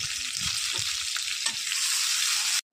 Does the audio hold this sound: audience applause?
no